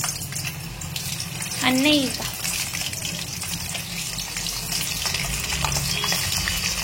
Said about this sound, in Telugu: ఆయిల్ అయితే హీట్ ఎక్కింది. దొండకాయలు అయితే వేయించుకుందాం.